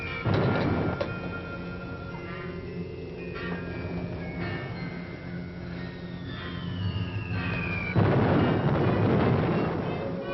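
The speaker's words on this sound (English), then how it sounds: "Bombing still make you nervous, Kurt?" Wartime bombing rumbles through a 1948 film noir scene, with deep sustained booms and a swelling roar that surges loudly near the end, under a band-limited vintage soundtrack with no talk.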